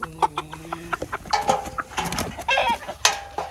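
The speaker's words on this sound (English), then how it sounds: "Here's the rooster." Chickens cluck and squawk in short bursts close by, with a rooster's calls mixed in among the busy farmyard chatter.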